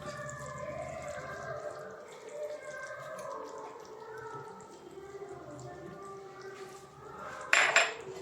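Chicken curry with coriander leaves stirred in a pot after the flame is off: soft, close scraping and clinking of a spoon against metal throughout, with a brief sharper clatter near the end.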